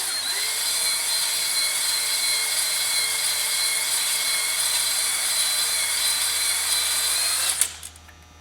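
A drill-driven hone de-glazes a cylinder of a Cummins 4BTA 3.9 engine from a Versatile 276, giving a steady high whine that runs without a break for about seven seconds before stopping abruptly.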